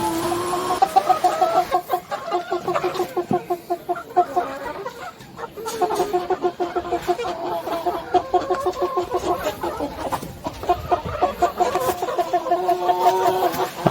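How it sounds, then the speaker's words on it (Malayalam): Four-month-old Gramasree rooster chickens on a poultry farm cluck and call continuously, several birds overlapping in busy, rhythmic bursts close to the microphone, with only faint background murmur. "ഗ്രാമശ്രീ പൂവന്മാരെയും വളർത്തുന്നുണ്ട്"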